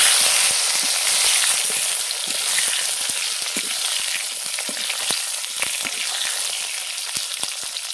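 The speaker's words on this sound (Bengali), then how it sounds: "তো এতে আমি দেবো একটু কালো জিরে ফোড়ন। সেই বেগুনগুলো দিয়ে দেবো, একটু লাল লাল করে ভেজে নেব।" Eggplant pieces fry with black cumin seeds in hot oil left from frying fish. The sizzle is loud and crackling, full of sharp pops and spatters, and stays constant with no voices.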